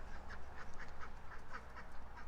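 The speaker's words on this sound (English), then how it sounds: "The ducks are not happy that rooster is in their pen right now." Ducks in a pen with a rooster, quacking repeatedly in a steady run of calls, fairly faint against a noisy outdoor background.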